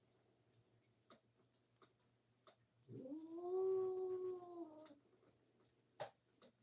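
An angry cat letting out a drawn-out, wavering growling yowl lasting about two seconds, close and fairly loud, framed by quieter ticks and small knocks in a calm room.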